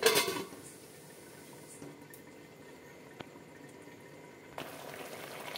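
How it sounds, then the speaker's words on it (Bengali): Pointed gourd simmers in mustard water under a lid, making a faint, steady bubbling hiss with a couple of soft knocks and a louder clatter at the start and near the end. "দিয়ে দেবো এই সর্ষের জলটা, ঢাকনা বন্ধ করে সেদ্ধ হতে দেব।"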